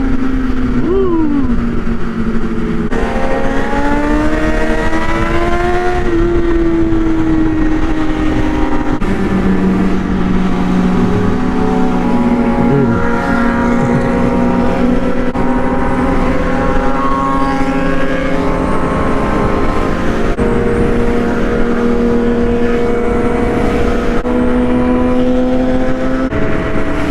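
A group of motorcycles, including a BMW S1000RR and a Harley, riding on a Dallas freeway, with a steady loud engine drone and shifting pitch from nearby bikes, mixed with wind noise and occasional voices.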